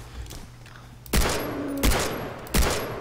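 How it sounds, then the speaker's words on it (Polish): Three loud gunshots from the video game Far Cry 3, evenly spaced about a second apart, each a sharp crack with a short decaying tail over quiet game ambience. "Trzy pewne strzały, ale potrzebny czwarty, i piąty, i szósty"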